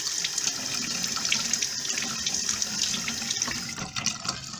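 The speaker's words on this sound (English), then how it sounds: "we're going to go ahead and run our faucet here for a second" Kitchen faucet running into a sink, a steady close hiss and splash of flowing water with no talk.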